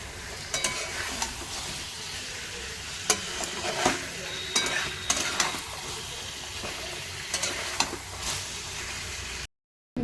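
Potatoes with their skins left on are sautéed in a pan, a continuous moderate sizzle with repeated scraping and clanking strokes of a spatula, ending in a short silence.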